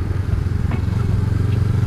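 A Honda CB500X twin-cylinder motorcycle rumbles steadily while being ridden, its low engine drone close and loud throughout the short stretch.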